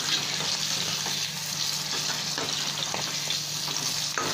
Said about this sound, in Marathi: मस्त फ्राय झाली आहे आपली मांदेली.